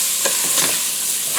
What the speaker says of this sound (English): I'm going to stir that up really good.